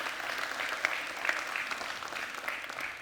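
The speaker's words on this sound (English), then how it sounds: "I'd like us to give Bob a round of applause." Conference audience applauding a speaker from Zimbabwe at an Africa business event, a sustained, even burst of many hands clapping at moderate distance.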